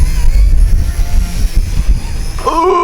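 A mini brushless XK K110 RC helicopter flies and flips outdoors in wind, its loud, steady whirring rotor and motor noise filling the air before a voice briefly speaks near the end.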